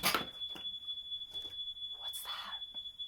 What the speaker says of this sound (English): as soon as I stopped filming, it stopped beeping